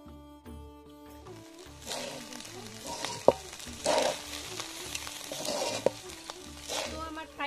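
Fried rice cooked village-style with raisins, cashews and ground garam masala, cinnamon, cardamom and sugar sizzles steadily in a pan while a spoon stirs and scrapes it, with a few sharp clinks against the metal and no talking.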